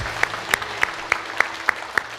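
Sparse, rhythmic clapping in a church congregation during a Christmas Sunday worship service, about eight evenly spaced claps in unison over a soft background.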